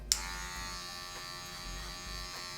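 An electric hair clipper fitted with a 1.5 guard comb cuts hair during a fade haircut, with a steady close buzz after a sharp start click and no talking.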